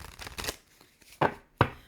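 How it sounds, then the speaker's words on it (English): A deck of oracle cards being shuffled by hand, heard as a few short, crisp riffling bursts separated by quiet pauses, close by and fairly soft. "I'm going to shuffle each deck separately and then shuffle them together."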